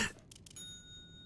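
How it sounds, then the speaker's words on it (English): A bell in a video game rings once, leaving a clear, sustained metallic tone that hangs and slowly fades after a short burst of noise. "I don't know who just rung the bell right now"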